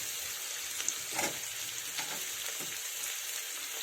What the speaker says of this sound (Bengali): পেঁয়াজটা ফ্রাই হবে তাই পেঁয়াজ দেওয়ার সাথে সাথেই দিয়ে দেব আলু কুচি ও গাজর কুচি